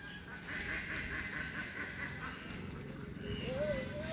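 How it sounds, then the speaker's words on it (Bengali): Ducks quacking near a flooded fish-catching spot, a steady chatter of calls over water and outdoor background noise. "হাঁসগুলো আসি ডিস্টার্ব করতেছে"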